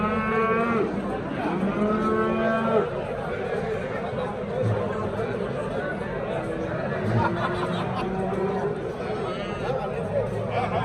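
Several cows moo repeatedly amid a busy crowd at a livestock market in Kokand, Fergana region, with people chattering and calling out nearby throughout.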